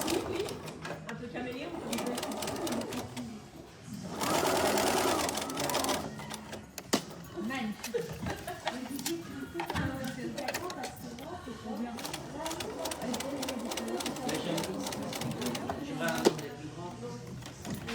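Sewing machine stitching a French-seam tote bag, rapid mechanical rattling bursts that start and stop with short pauses, close and clear, while someone talks between runs.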